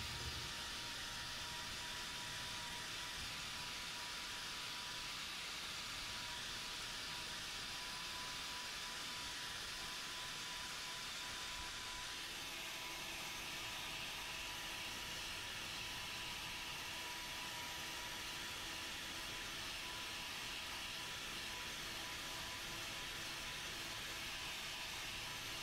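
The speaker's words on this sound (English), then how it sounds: "Now that we've got that foot trimmed up with the grinder" A grinder trims a cow's hoof with a white line lesion, a long steady high-pitched whirring hiss that runs continuously, shifting slightly in tone about halfway as it bears on the horn.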